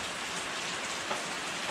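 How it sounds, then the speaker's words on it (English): Steady rain falls outdoors in a broad, even hiss of drops striking surfaces, continuous and close throughout with no talking. "so it's so good to see the rain"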